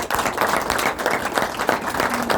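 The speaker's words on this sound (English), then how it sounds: "Can we give one more round of applause?" Audience at a Republican headquarters event in Erie gives a round of applause, close and lively clapping with distinct individual claps throughout.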